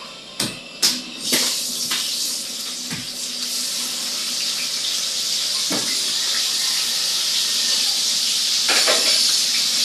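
Garlic, onion and tomato being sautéed in a pan build a loud, steady sizzle and hiss after a few opening clatters and knocks, and the sizzle grows stronger and holds with no talk over it.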